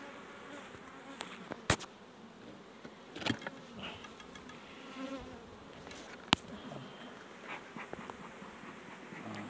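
Honeybees buzz at an open hive during a colony inspection before the acacia bloom, a steady close hum of the swarm broken by a few sharp knocks and clicks from the frames.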